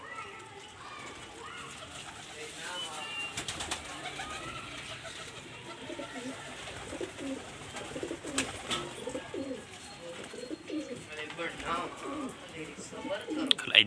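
Pigeons coo softly in the background at a rooftop pigeon-flying spot in Faisalabad, heard under someone talking and children playing nearby.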